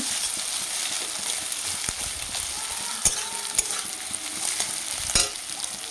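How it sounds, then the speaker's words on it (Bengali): Egg bhujia, scrambled egg with potato, onion and chilli, frying in a large wok: a constant bright sizzle with scattered clicks of a spatula stirring and scraping, close and without talk. "এই দেখো তাহলে ডিমের ভুজিয়াটা বানিয়ে নিচ্ছি প্রথমে"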